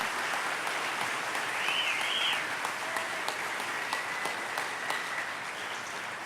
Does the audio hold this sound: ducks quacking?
no